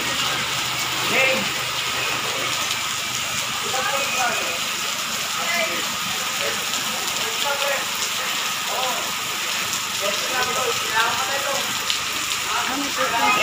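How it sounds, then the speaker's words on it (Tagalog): Heavy rain during a typhoon pours down in a steady, dense hiss that fills the whole clip, with voices talking faintly underneath. "Ayan, malakas ang ulan, guys."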